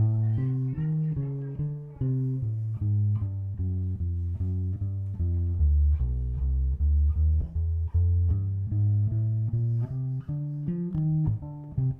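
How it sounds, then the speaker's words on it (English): A bass plays a walking jazz line through a chord sequence, steady evenly spaced plucked notes stepping up and down. It sounds close and clear, with no other instruments or voices. "That's a walking bass line"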